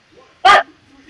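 A single sharp dog bark rings out close by, loud against a quiet outdoor background, with a faint voice murmuring before it.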